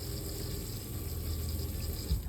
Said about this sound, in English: I'm gonna turn the faucet on, see what happens there